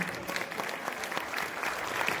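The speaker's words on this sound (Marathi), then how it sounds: "जरा कामतेकर साहेबांसाठी टाळ्या वाजवू द्या" Applause for a guest at a Kunbi community cultural event in Maharashtra, a steady wash of crowd clapping heard from a distance at moderate volume.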